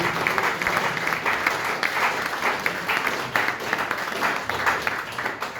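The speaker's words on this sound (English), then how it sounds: "Round of applause for Bruce Springsteen." Sustained audience applause fills the Great Hall at Lancaster University during a festival talk, a dense, steady patter of many hands with slight swells, close and moderately loud throughout.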